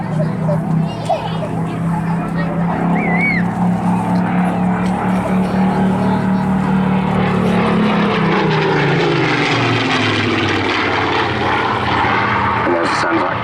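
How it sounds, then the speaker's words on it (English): A loud Rolls-Royce Griffon piston aircraft engine roars and drones steadily at an airshow, its pitch shifting as the plane passes overhead, with a voice talking over it. "there's the sound of that gorgeous Griffen engine"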